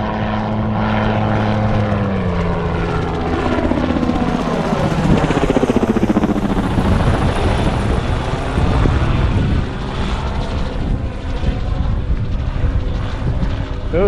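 A low-flying helicopter passes close by, its engine roar swelling and then shifting in pitch as it moves away.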